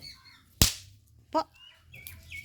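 A single sharp, loud bang of an onion firecracker bursts nearby, followed by faint chirps and a brief crackle in an otherwise quiet outdoor setting.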